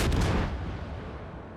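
Ship guns fire in a naval video game, heard as one heavy, booming salvo that hits hard and then fades out in a long, low rumble.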